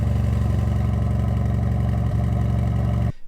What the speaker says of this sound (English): I can select, you know, sport modes, which of course engages the engine